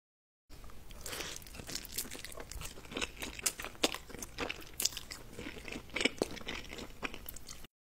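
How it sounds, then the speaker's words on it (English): Crunchy late-night snack being bitten and chewed up close, ASMR-style: repeated crisp crunches and crinkly tearing scrapes spread through the whole stretch, fairly loud and close, with no talking. "So we are gonna have a late night snack."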